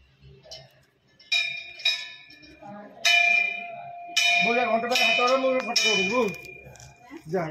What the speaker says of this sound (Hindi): घंटी हलन घंटी